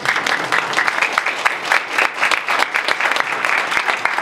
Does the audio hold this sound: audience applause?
yes